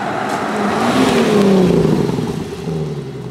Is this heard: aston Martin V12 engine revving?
yes